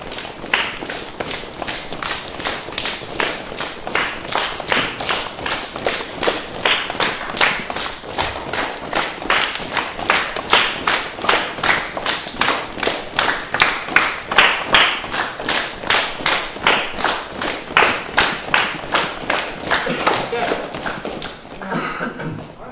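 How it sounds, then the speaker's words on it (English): A keynote audience bounces and jumps while their hands slap together, producing a long, loud train of rapid, regular claps with thuddy footfalls underneath, heard as a crowd filling the room. "And if you let your hands hit each other, it will sound like that."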